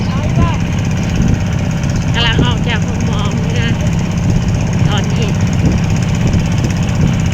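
A farm tractor engine runs steadily nearby, a loud, continuous low rumble throughout, while people talk over it and a few brief higher calls cut through.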